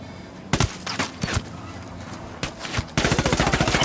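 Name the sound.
gunfire in the video game Ghost Recon Wildlands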